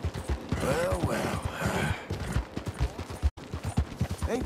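Horse hooves clip-clop in Red Dead Redemption 2, soft rhythmic thuds running under a voice and game sound throughout.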